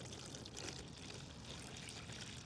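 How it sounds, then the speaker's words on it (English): Water pours from a bucket into a container for cleaning climbing carabiners, a steady, faint splashing trickle that runs continuously without pause and with no talk. "I'll pour some water in it"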